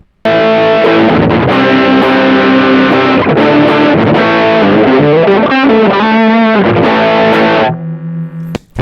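A loud, heavily distorted electric guitar through a Tech21 SansAmp TRI-A.C. plays chords and a short run, sustained and buzzing, ending with a brief quieter tone.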